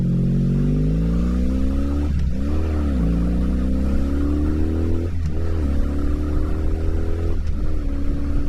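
A 1984 Honda Magna VF700C V4 motorcycle runs loud and close, its engine revved repeatedly, pitch climbing steadily between three quick gear-change dips.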